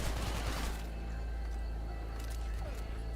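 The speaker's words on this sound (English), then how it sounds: "Why are they shooting at me?" Gunfire from enemies in the video game Hatred, a burst of rapid shots in the first second, then quieter game ambience with a few scattered sounds.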